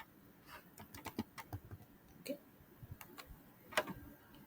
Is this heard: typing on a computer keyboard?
yes